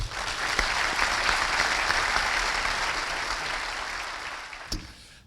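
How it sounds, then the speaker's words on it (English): Audience at a Hall of Fame induction ceremony giving a sustained round of applause for Coach Amos Alonzo Stagg, even and full, gradually fading near the end. "Please join me in a round of applause for Coach Stagg."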